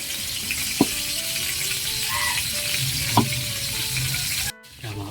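Egg dropped into tilapia sarciado sauce in a frying pan, giving a steady sizzle with a couple of sharp clinks and a brief pause near the end.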